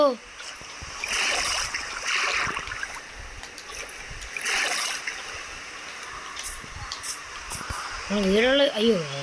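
Splashes into water in Minecraft come in soft bursts of splashing and bubbling, with a higher swooping game tone near the end, while a person talks over the top.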